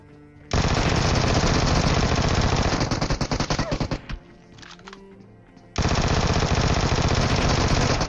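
Vector gun in PUBG firing in long, rapid automatic bursts, loud and close. A choppier stretch and a short pause come mid-clip before another sustained burst.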